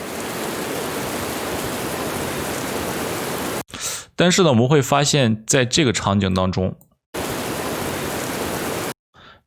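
Layered rain sound effects built in Adobe Audition play as a dense, steady hiss of falling rain, cut off midway while someone speaks and then resuming unchanged.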